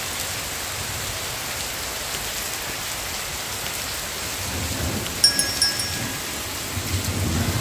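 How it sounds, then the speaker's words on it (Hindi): Heavy rain pours down on a village, a steady, dense hiss of downpour that fills the whole stretch, with slightly louder bursts of patter near the end and no voices. "हमारे गांव में गाइस बहुत ही ज़्यादा बारिश आ रही है"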